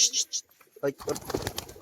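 A white-eyed Rajshahi female pigeon gives a brief low coo, close by, mixed with a few bird chirps and handling noise in under two seconds.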